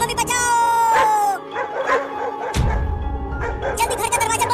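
A cartoon dog barks in short yipping bursts amid voiced cartoon chatter and scene effects, with loud barks landing near the start and again toward the end.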